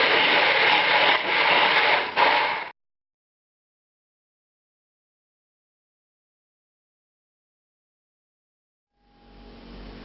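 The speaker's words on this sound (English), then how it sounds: "I'm putting it in the cup of the stick blender and puree this." A stick blender purees tomato sauce in a cup, whirring loudly for a few seconds, then stops abruptly, followed by silence and a faint motor hum returning at the end.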